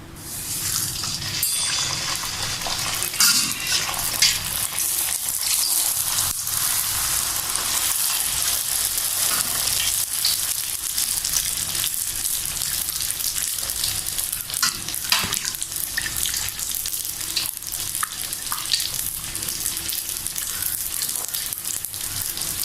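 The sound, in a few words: puris frying in hot oil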